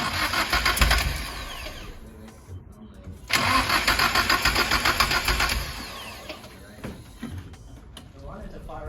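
A Nissan S14 with a suspected wiring short cranks and catches twice, each start a loud close rumble settling into an uneven idle, with voices talking nearby.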